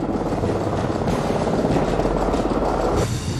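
A helicopter's dense, steady rotor roar fills the clip with a rapid low thumping, loud and continuous, at a military ranger competition.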